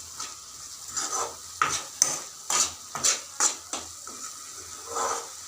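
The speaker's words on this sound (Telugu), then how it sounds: "మీడియం ఫ్లేమ్లోనే పెట్టుకోండి, లేకుంటే ఉల్లిపాయలు ఊరికే అడుగంటిపోతాయి. మధ్యలో కలుపుకుంటూ ఉండండి" Onions fry over a medium flame for a prawn fry while a spoon stirs them, giving a regular series of scraping, clinking strokes against the pan over a quiet, low sizzle, close up.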